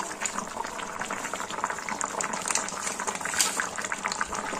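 Curry gravy with potatoes simmering in a pot for Bengali palong shaak dhoka: a steady, soft, close bubbling and gurgling that continues evenly throughout.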